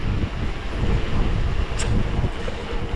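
Steady south wind buffets the microphone during an electric-assist mountain bike ride near Sunbilla, a constant loud low rumble with no talking.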